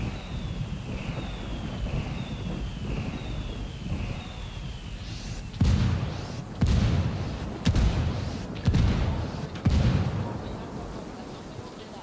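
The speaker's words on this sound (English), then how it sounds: "calling for indirect fire" An indirect artillery strike in Ghost Recon Wildlands: five loud explosions land about a second apart after several seconds of whistling incoming shells over wind noise.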